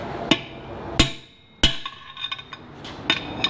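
Sharp metallic hammer strikes ring out at uneven intervals, four or five loud blows with lighter taps and clinks between them, close by.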